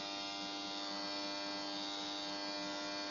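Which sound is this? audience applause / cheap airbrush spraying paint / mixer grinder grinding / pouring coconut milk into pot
cheap airbrush spraying paint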